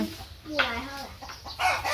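Domestic chickens clucking in a Thai village yard, several short bursts under a woman's nearby speech, with some faint background farm noise.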